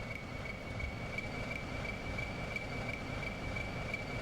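A locomotive hauls a train on a long uphill climb in a railway simulation game, giving a steady, continuous rumble of wheels and engine with a faint sustained whine on top, and no voices.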